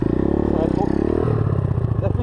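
A 125 YCF pit bike engine idles and revs nearby in a rapid, buzzing putter, then the note drops and stutters as the clutch is pulled, with someone talking over it.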